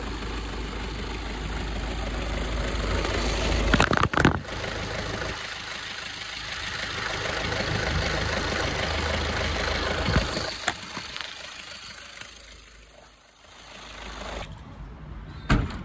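A 2015 Skoda Rapid diesel idles steadily and fairly quietly with a low, even hum, broken by a few sharp clicks and knocks near the start and middle and a brief dip near the end.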